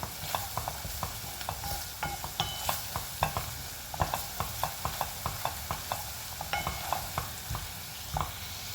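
A spoonful of flour roasting in a pot for lentil soup, stirred with a steady run of close, rhythmic scrapes and taps against the pot over a soft frying hiss.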